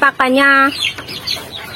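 A chicken gives a short, sharp cluck and squawk close by, followed by a few softer clucks.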